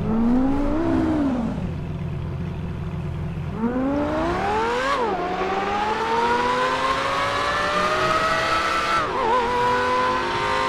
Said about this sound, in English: But who does that with a Lambo? Let me race it home.